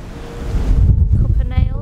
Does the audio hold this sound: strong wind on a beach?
yes